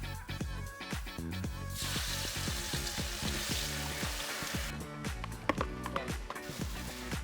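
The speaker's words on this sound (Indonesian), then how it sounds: "bumbu kelapa ini harus ditumis lebih dulu, biar lebih gurih rasanya" Coconut spice paste sautéed in a pan, a steady close sizzle and frying hiss running throughout with repeated scraping stir strokes, loud and continuous with no talking.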